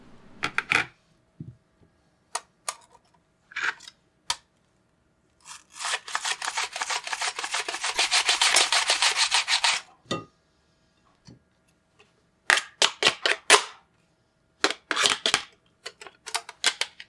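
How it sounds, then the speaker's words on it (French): Onions sliced 1 mm thin on a mandoline for an Oklahoma fried onion burger, a close series of crisp scraping strokes with one long rapid burst of steady back-and-forth slicing, then more quick separate swipes. "je prends une mandoline et je coupe mes oignons pour qu'ils aient une épaisseur de 1 mm"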